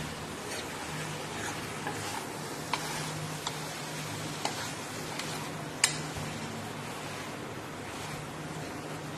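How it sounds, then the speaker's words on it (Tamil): Chicken pieces sizzling and frying in a pan for a chicken curry, a steady broadband hiss with a few sharp clicks and taps as they are stirred. "சிக்கனை உள்ளே ஆட் பண்ணியாச்சு. இது கலந்து விட்டுக்கலாம்."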